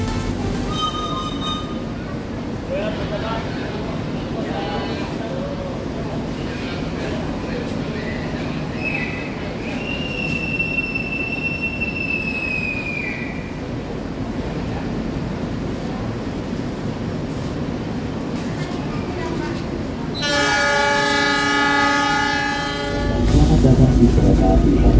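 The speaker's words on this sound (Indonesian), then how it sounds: "kereta api Taksaka Hype Trip akan diberangkatkan dari stasiun Gambir menuju stasiun Yogyakarta." The Taksaka Hype Trip train pulls out of Gambir station in Jakarta bound for Yogyakarta, a steady rumble of rolling railcars with a brief squeal, then a loud, sustained horn blast near the end.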